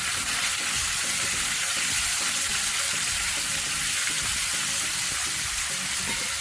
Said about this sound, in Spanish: los vamos a freír aquí para que se sellen y cuando los pongamos en el pozole no se desbaraten